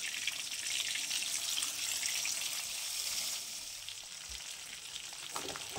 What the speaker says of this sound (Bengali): এই তেলেই মাছগুলো ভেজে নেব।